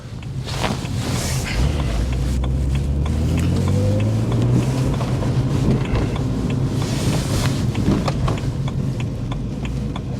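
A BMW 130i hatchback drives along a road from inside the cabin, its engine note rising as the car accelerates, over a constant rumble of road and wind noise, with no talking.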